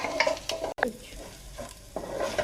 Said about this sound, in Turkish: Domates salçamızı, biber salçamızı ekleyelim ve kavurmaya devam edelim